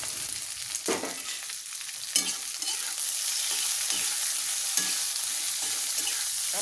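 Okra fries in hot oil in a pan for a bhendi bhaji, giving a steady bright sizzle with intermittent stirring scrapes and clatters throughout.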